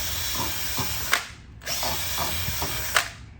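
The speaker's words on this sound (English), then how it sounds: "We might be just drilling through kind of a little bit of where the little bit of the carbon fiber is." A power drill bores through a carbon fiber goalie skate holder in two close, loud bursts, each winding down with a brief bite and spin-down between them, with no talk.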